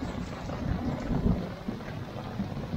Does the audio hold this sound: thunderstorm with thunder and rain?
yes